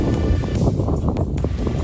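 Steady, broad wind noise roars throughout while fishing in snow in Norway, buffeting the microphone with low rumbling gusts and no voices.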